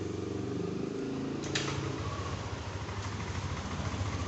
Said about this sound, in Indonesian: Kita hidupkan lagi motornya.